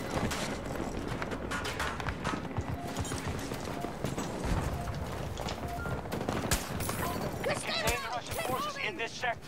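A new light machine gun in Battlefield 2042 rattles off rapid hip-fire bursts amid battlefield noise, dense and mid-distance, with a voice talking over much of it.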